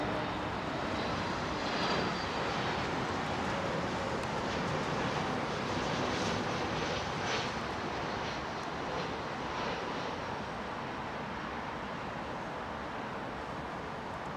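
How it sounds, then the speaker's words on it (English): A Boeing 747 airliner arriving at London Heathrow roars steadily in a broad, loud engine rumble and whoosh that holds for the full length with no talk. "Network 747, blue tail, I think it is,"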